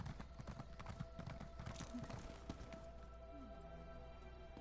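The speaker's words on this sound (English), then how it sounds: "I named this horse Stepper" A horse's hooves clip-clop in a quick, steady rhythm in Elder Scrolls Online, quiet and continuous, with a faint snort near the end.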